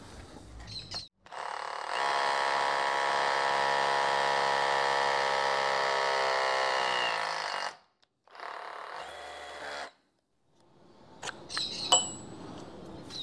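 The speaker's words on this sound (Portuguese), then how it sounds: "Iniciar os testes com uma broca de 8 mm, broca encaixe S10 Plus. Função perfurar com impacto." A Bosch GBH 187 cordless rotary hammer with an 8 mm SDS Plus bit, in hammer-drill mode, bores into soft concrete with a steady, close, high motor whine for about six seconds, then pauses and gives a brief second burst.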